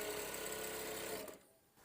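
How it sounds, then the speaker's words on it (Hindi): A Daisen sewing machine stitching cloth runs with a steady, quiet, fast mechanical whir close by, then stops abruptly near the end, leaving near silence. "ये आप देख सकते हैं मशीन की कितनी अच्छी आवाज़ है, यानी बहुत ही कम आवाज़ है।"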